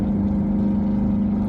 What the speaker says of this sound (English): Let me get away from this motorcycle.